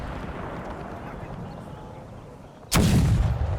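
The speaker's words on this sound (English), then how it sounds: "Gave the cannons different areas to fire at to see if I can maximize the damage on them" Cannon artillery fire in the video game Empire 2, shelling Kurdish hillmen during a Polish Lithuanian Commonwealth campaign battle: a low battle rumble gives way to one sudden loud, booming volley that sustains to the end.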